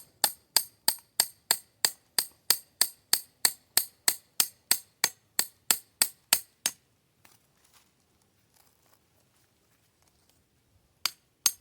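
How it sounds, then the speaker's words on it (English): A hammer drives a metal bait hole bar into the ground, sharp metallic strikes repeating in a steady, fast rhythm, about twenty blows in a row, then quiet with a couple of isolated knocks later. "Hammer in a bait hole."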